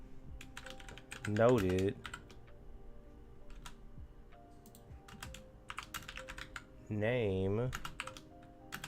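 Steady clicking of C# code being typed on a computer keyboard, with bursts of keystrokes running through the clip and brief speech breaking in twice.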